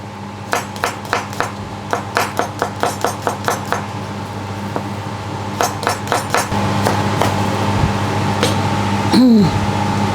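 A knife chops garlic cloves and ginger on a cutting board for Thai chicken rice sauce, giving a fast run of sharp, evenly spaced taps, then slower scattered chops and a brief clatter near the end.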